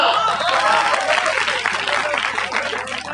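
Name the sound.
audience clapping at poetry gathering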